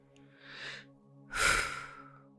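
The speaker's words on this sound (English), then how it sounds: "So we're going to take a few breaths into our low bellies." Slow, deep breaths into the low belly during a yoga exercise: a soft inhale, then a louder, fuller exhale, close and alone over a faint steady hum.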